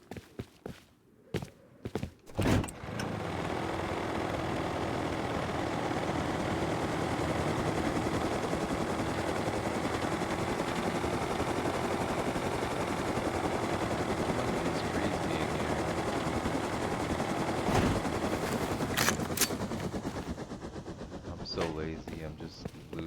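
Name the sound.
helicopter flying in a video game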